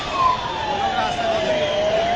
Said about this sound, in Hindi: देखिए ये एम्बुलेंस यहाँ पर पहुंची है।